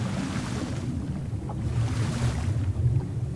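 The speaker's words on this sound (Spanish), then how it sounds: "se ve que son las olas de la orilla" Steady rushing surf of shore waves in the video game ARK Aberration, a continuous low roar with gentle swells and no talk.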